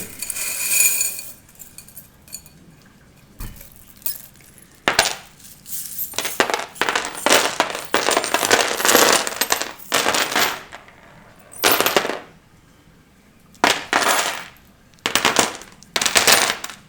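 A handful of small divination charms are shaken and dropped during a weekly fortune reading, producing bursts of metallic clinks and rattling clatter in irregular clusters, loud and close, with short quiet gaps between throws.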